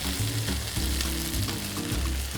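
Curry paste with red chili powder fries in a pot, giving a loud, continuous sizzle close by with low rumbling stirring movements underneath and no talking.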